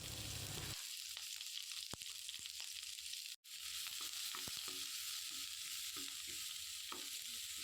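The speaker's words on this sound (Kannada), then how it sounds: "ಈಗ 4 ಇಡೀ ಬೆಳ್ಳುಳ್ಳಿ ಜಜ್ಜಿದ, ಹಾಗೆ 2 ಕಾಯಿ ಮೆಣಸು ಹಾಕಿ, ಹಾಗೆ 1 ಕಟ್ ಮಾಡಿದ ಈರುಳ್ಳಿ ಹಾಕಿ ಫ್ರೈ ಮಾಡುವ" Crushed garlic, green chillies and chopped onion fry in hot oil, giving a steady, close hiss with a few soft stirring scrapes and one brief break in the sizzle.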